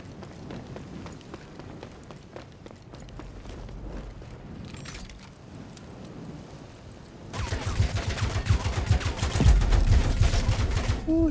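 Gunfire in the online shooter Rogue Company: a dense stretch of rapid automatic shots, loud and close, building into heavier bursts in the second half over game effects and background noise.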